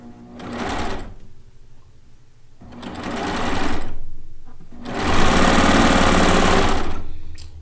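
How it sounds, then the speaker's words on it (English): Piecing sewing machine stitching a quilt top, with no bobbin to wind, running in three bursts separated by short pauses, the last run longest and loudest, close and mechanical with a steady rapid rattle. "I really like this machine to piece on. It is a piecing machine"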